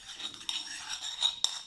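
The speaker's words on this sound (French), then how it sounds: "nous mélangeons tout ceci avec une petite cuillère" A small spoon mixing a marinade of salt and pepper in a bowl, making faint, quick scraping and clinking sounds with a few sharper taps near the end.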